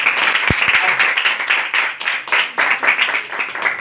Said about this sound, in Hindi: शमौन भाई के लिए जोरदार ताली।